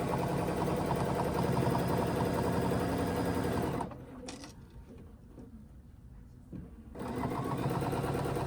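A sewing machine quilts a block using a ruler, running in a fast, close, steady whir that stops briefly midway and then resumes, with no talk.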